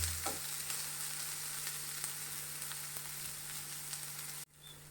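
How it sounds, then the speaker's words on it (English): Chopped onion sautés in a hot pan with an even, soft crackling sizzle and a few faint stir taps, steady throughout until it cuts off abruptly near the end. "Need to saute the onion till it becomes golden brown in color."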